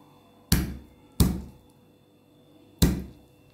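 Garlic cloves crushed with three heavy, separate thumps on a board while making meatballs from stale bread, each strike sharp and close with a short decaying tail and quiet gaps between.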